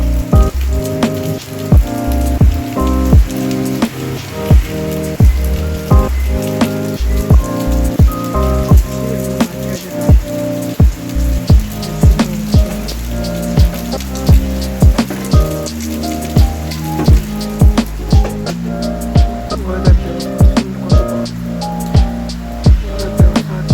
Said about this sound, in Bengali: বৃষ্টি হচ্ছে, কত বাজে ওয়েদার।